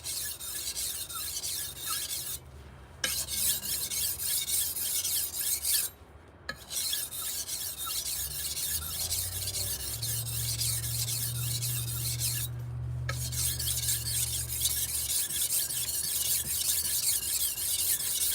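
Steady back-and-forth rasping of a clean knife blade drawn gently across a diamond sharpening stone, cutting fast, with a few brief pauses between strokes and a low hum underneath; close, continuous, and without talk.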